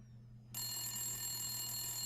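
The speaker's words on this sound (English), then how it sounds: "And the phone rings. The phone that is not connected to anything." A telephone that is not connected to anything starts ringing in the Silent Hill video game, a sudden loud, continuous electronic ring over a low background hum.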